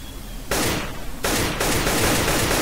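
Dense bursts of rapid automatic gunfire in a CS:GO match, two loud sustained volleys of fast shots with a short gap between, sharp and close.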